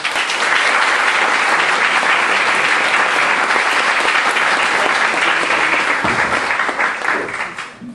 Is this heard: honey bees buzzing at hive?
no